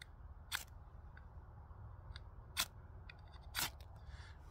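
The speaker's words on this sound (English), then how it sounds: "sometimes I'll put the tip down and drag the knife to it" The spine of a Gerber Ultimate knife is dragged along a fire starter rod, three crisp, rasping strikes spaced a second or two apart, each short and sharp against near silence.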